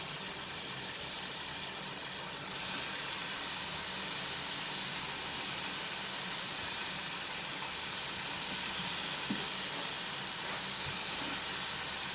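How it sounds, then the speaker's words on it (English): Steady broadband sizzling of potatoes frying in hot oil over a high flame, continuous and fairly even, with a slight rise in intensity a few seconds in. "I'm frying it over high flame, friends."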